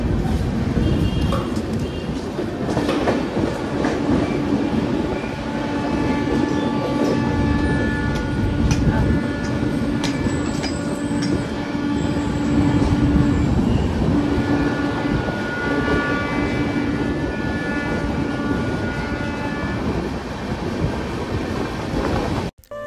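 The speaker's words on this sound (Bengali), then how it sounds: "তো এখান থেকে আমাদের ট্রেন এখন ছেড়ে দিচ্ছে।" Rupashi Bangla Express pulling out of a station and running on rails, with a steady loud rumble and clatter of wheels and carriages throughout, plus faint high squeals and chirps over the din.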